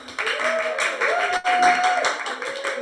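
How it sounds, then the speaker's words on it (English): An audience claps for a performer named Bella at a Talkaoke live talk-show event, a dense burst of applause lasting nearly three seconds with a high whistle-like tone and cheering voices running through it. "let's have a big round of applause for Bella"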